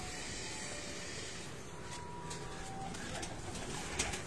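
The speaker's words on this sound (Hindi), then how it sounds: "बहुत बड़े कबूतरों का खजाना आपको दिखाएंगे" Pigeons coo at a breeder's rooftop loft in Faisalabad, soft and somewhat distant against a steady wash of outdoor background noise.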